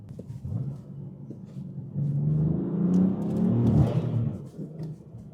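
A 600-horsepower BMW F82 M4 with a staggered setup, its engine note rising in a swelling rev from a low rumble, peaking loudly before easing off slightly, heard without talk.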